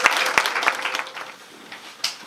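A brief round of applause from wedding guests at a civil wedding ceremony, starting with a few sharp nearby claps and then thinning out and fading over about two seconds, with no talking.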